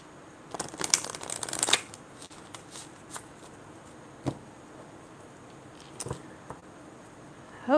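Large tarot cards being shuffled by hand at close range, with a dense riffling burst early on followed by a few sparse taps and card flicks, and no talking.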